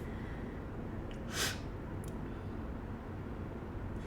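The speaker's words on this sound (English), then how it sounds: "I hope I'm not sniffling too much" A single short, breathy sniff from someone with seasonal allergies at a beach house on the Oregon coast, close and brief, followed by a fainter sniff over a steady low background rumble.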